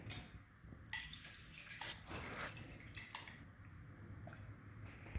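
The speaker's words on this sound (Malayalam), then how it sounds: "ഉഴുന്നിൽ കുറേ വെള്ളമുണ്ട്, അതും കൂടെ മറ്റേ വെള്ളത്തിലോട്ട് മാറ്റുകയാണ്" Soaking water poured off urad dal into another vessel, a soft trickling splash with a few drips, quiet and close.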